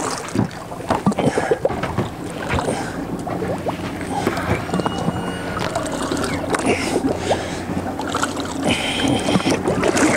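A fishing boat motor rumbles steadily in gear out on open water, with wind buffeting the microphone and people talking briefly over the engine noise.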